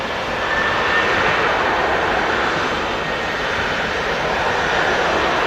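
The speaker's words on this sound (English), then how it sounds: "This TUI that's currently rolling on the runway is not on radar" A TUI airliner rolls along the runway at Manchester Airport, its engines producing a loud, steady broadband roar that holds constant throughout without pauses or talk.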